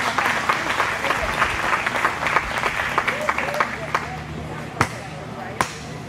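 A crowd at a county fair rabbit show applauds for the kids, steady clapping that thins out toward the end, leaving a few distinct, loud individual claps standing alone.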